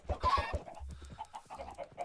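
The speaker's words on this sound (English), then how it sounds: "I will be breeding up our chicken friends to get more chickens so we can get more feathers" Chickens cluck in the Minecraft modpack OceanBlock 2: a quick run of four short clucks, then softer scattered clucks and murmurs close by, with no talking.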